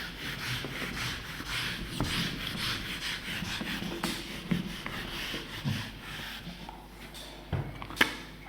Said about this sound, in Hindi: ऊपर वाली स्टेटमेंट को रब कर रहा हूं ऊपर में